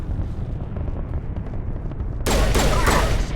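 Gunfire in the video game Mass Effect Legendary Edition: a loud, dense burst of rapid shots and impacts breaks in partway through, over a low rumbling battle ambience.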